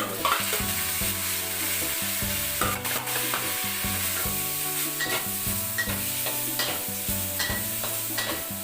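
Loud, steady sizzling of shrimp and squid frying in a hot pan, with music playing underneath throughout and occasional stirring clatter.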